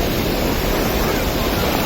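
Forceful water rushes at Thottikallu waterfall, a loud, unbroken roar close by, strong enough to sweep a foot away, with wind buffeting the microphone.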